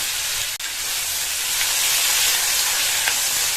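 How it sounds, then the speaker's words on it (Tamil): Cut tomatoes sauté in a pan with fried dal for a chutney, giving a loud, steady, close hiss of sizzling with one brief dip near the start. "தக்காளியை சேர்த்து லேசாக வதக்கி விட்டுட்டு"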